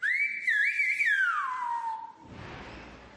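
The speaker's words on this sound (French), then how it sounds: "les enfants continuent leur cours de sifflement" A single whistler on La Gomera sends out a clear, piercing Silbo Gomero whistle whose pitch glides up and down before falling away, followed by faint room noise.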